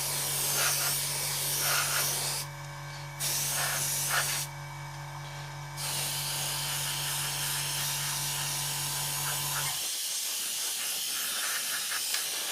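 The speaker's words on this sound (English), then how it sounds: "Getting in and just spraying it all lightly," Steady airbrush hiss lightly spraying paint onto a 1/32 scale Trumpeter Swordfish model aircraft, running continuously with two brief pauses, then cutting off near the end; close and fairly quiet.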